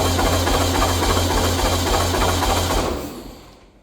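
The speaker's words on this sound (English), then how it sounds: "now I'm going to go and turn the key, get the engine to spin over and see what sort of compression we make" A Volkswagen Beetle engine cranks over on the starter without firing during a compression test, a rapid loud rhythmic chugging that runs steadily for about three seconds before winding down.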